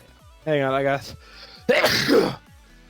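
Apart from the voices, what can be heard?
sneeze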